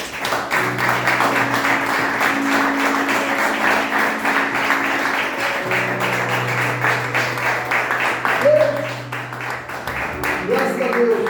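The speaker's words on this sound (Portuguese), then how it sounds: "vamos dar uma salva de palmas ao Senhor." Church congregation applauding in a worship service, a steady dense wash of clapping sustained throughout, with a sustained musical tone underneath.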